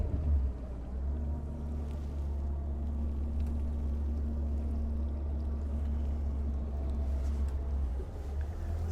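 A small Iron 647 boat motoring out through waves, its engine a steady close low drone with constant hull and water noise throughout, no voices.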